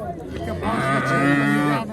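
A bullock lets out a long, loud low moo lasting over a second at a Friday livestock market in Pastdargom, Samarkand, with faint background chatter from a crowd around it.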